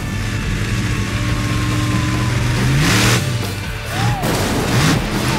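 Swamp Thing, a heavy monster truck, revs its engine loudly and thuds down onto cars, with rising and falling engine whines and crunching impacts near the middle and end.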